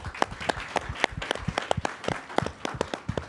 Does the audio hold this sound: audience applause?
yes